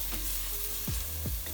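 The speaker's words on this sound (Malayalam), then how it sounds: "ഒരു 5 മിനിറ്റ്സോളം നന്നായി മിക്സ് ചെയ്തതിന് ശേഷം" Chicken curry masala sizzles in a pan while a spoon scrapes through it, a steady frying hiss broken by two quick stirring sweeps, close and loud.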